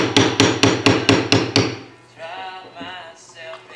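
A Barry King smooth beveler is struck on leather: seven quick, even, sharp taps, close and loud, followed by a short spell of a voice speaking.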